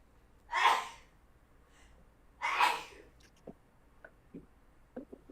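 Two loud sneezes about two seconds apart, close by, followed by a few faint clicks and small breathy noises.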